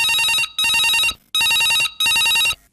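A telephone rings for an incoming call, loud and close, in four evenly spaced electronic ring bursts separated by short silences, with no voices over it.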